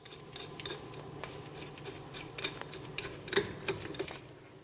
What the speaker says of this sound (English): I'll secure it with a few lug nuts.